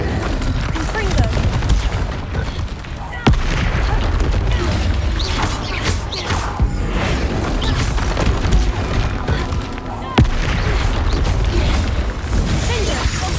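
Confringo spell combat in the video game Hogwarts Legacy: dense, loud fire and crackle of explosive bursts, thuds and mechanical clatter running continuously, with sharp impacts standing out and voices mixed in.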